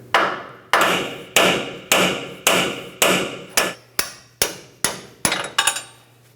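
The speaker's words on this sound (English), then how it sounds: "Let's continue with our hammer to break this free." About a dozen sharp, ringing hammer blows on metal at a steady pace, breaking a bolt free on a 1998-2002 Lincoln Navigator suspension, close and loud, each ringing out briefly before the next strike.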